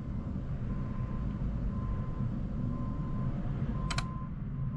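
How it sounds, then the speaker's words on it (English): The fan of an HVAC fan coil unit, set to heat, runs with a steady, dense low rumble and whir that stays constant and close, broken near the end by a brief rapid clicking burst. "I hear the fan started."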